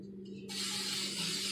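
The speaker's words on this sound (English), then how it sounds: "spray it down real good." A short pause, then a continuous hissing spray from an aerosol can of cooking spray onto a waffle maker, steady and close.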